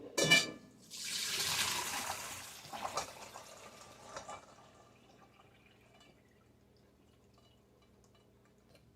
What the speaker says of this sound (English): Now we need to discard this water and rinse them again.